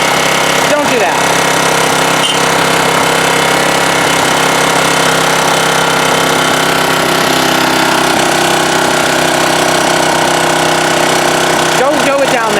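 A 1987 Honda HRA214 lawnmower runs on choke, its engine hammering loud and close in a rough, rapid, uneven chatter that continues throughout, with people talking over the noise.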